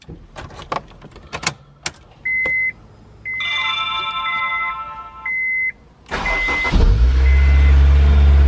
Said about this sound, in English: let's go ahead and fire up the S2000 and head to work